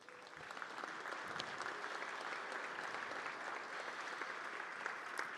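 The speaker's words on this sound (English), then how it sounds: "Ladies and gentlemen, please join me in a round of applause for all of our WEST sponsors." A large crowd at the WEST24 conference keynote applauds the event sponsors. The clapping is a steady, even wash of many hands that stays level throughout, heard from across a big hall.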